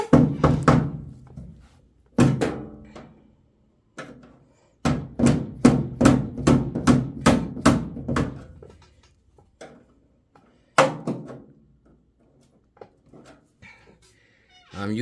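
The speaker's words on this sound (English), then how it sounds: "I'm using a dead blow hammer to hit on the scraper" A dead blow hammer strikes a scraper during body panel gap work on a classic muscle car restoration, giving sharp, dull knocks in quick irregular bursts with pauses between them, close and loud, with no talking.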